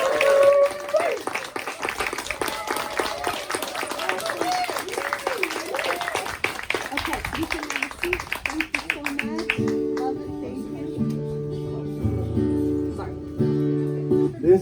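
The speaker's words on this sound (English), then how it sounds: "So I would just like to recognize them with a round of applause right now." Church congregation applauding new members and volunteers at a Sunday service: scattered clapping mixed with voices fills the first half, then gives way to soft sustained instrumental music.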